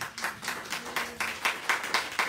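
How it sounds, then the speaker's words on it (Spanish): Congregation at a Pentecost church service claps in unison, a roughly regular beat of sharp group claps, moderately close, with a faint background hum and no talking. "Y denle un aplauso al Señor."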